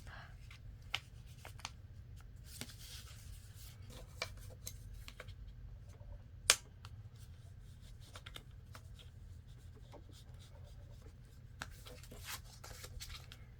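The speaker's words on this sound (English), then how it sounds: "And then we're going to fold this up." Paper is folded and creased by hand close up, giving soft crinkles, rustles and scattered sharp taps over a low steady background hum.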